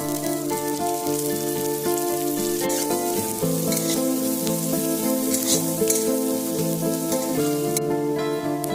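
Chopped onion sizzles and fries in hot oil with ginger, garlic and green chilli, a steady loud crackle with stirring running throughout, while a musical background with melodic tones sits over the frying.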